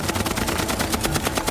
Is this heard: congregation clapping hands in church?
no